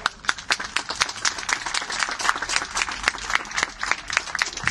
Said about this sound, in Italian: Un applauso forte pure per loro.